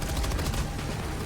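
Machine gun fire in the video game Helldivers 2, a dense continuous rattle of rapid shots, loud and steady for the whole short burst.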